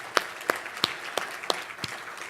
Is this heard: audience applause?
yes